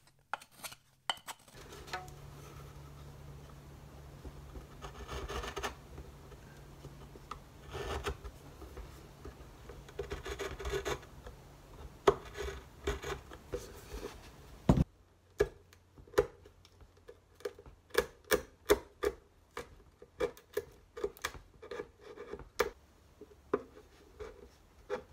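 A saw cuts through the rib of a redwood violin, giving a steady scraping rasp, then a run of light, irregular taps and clicks from close handling of the wood.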